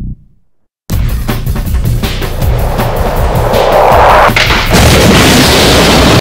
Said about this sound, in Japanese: ダニーはこのように次回作で実写爆発によって爆殺されます